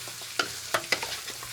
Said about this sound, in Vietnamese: Trộn và đảo đều cho thấm gia vị